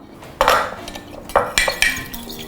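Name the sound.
whisking egg with hot sauce in a bowl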